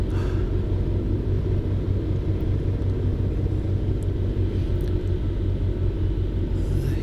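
A light aircraft taxis with a steady, loud engine rumble that holds constant throughout, with a few faint clicks and knocks on top.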